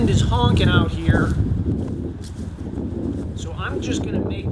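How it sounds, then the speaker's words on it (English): Strong wind blows steadily outdoors at a yard being cleared with a chainsaw, a loud broad rush buffeting the microphone throughout, with a few brief footsteps and a rustle among the gusts. "The wind is honking out here,"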